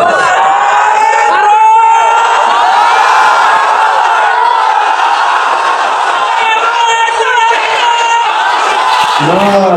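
Young men at a Bangladeshi religious gathering chant takbir together, a loud, sustained crowd roar carried over amplified sound, with rising and falling shouted phrases and cheering throughout.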